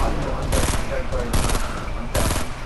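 Rapid enemy gunfire in a sniper video game, coming in loud, sustained bursts with short gaps between them.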